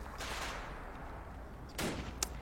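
Mortar rounds fire in a military video game, with a couple of muffled booming shots spaced apart and a sharper crack near the end, all fairly quiet and without speech.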